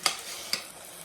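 Sardines with egg fry in a pan, giving a steady close sizzle broken by two sharp scraping stirs of a utensil.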